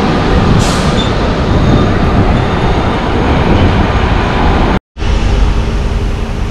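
Howrah–New Delhi Duronto Express (12273) running in the rain, a loud continuous rumble and clatter of the coaches on the rails filling the whole time, broken once by a brief cut to silence.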